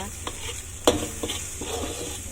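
Bitter gourd (ampalaya) cooking in a home kitchen pan gives a soft, steady sizzle with a few scraping stirs and one sharp clink near the start, fairly close and with no talking.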